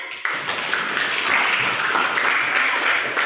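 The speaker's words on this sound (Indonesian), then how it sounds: "Tepuk tangan." Loud, dense applause from a classroom audience, steady clapping that starts abruptly and holds without a break.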